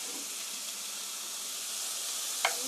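Cabbage and vegetables stir-fry in a hot pan for spaghetti, a steady, close, bright sizzle with a short clink or scrape near the end and no talking.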